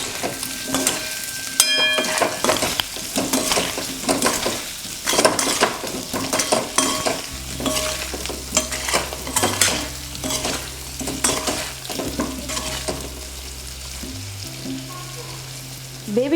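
Boiled baby potatoes fry in a pan with spices, asafoetida and salt, stirred with a utensil; busy close scraping and sizzling continue throughout, joined later by a low steady hum.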